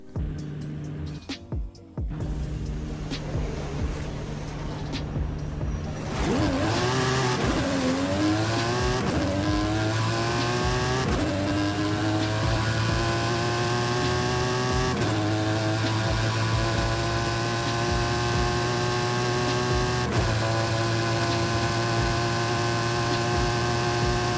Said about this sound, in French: je vais passer au test de la voiture avec la petite course de drague